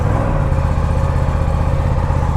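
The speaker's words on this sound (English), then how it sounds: "So let's start this motorcycle and take it out." Aprilia Tuono 457 motorcycle engine running cold just after starting, a steady close mechanical thrum with a fast regular low pulse and no talking.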